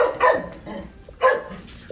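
A dog barks twice nearby, with short, sharp yaps spaced about a second apart and quieter background sound in between.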